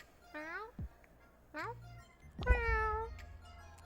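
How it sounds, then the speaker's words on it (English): A street cat meowing three times, close and clear, each call a drawn-out rising and falling mew, with soft background thumps between calls. "Mew. The street cat wanders away after her pronouncement."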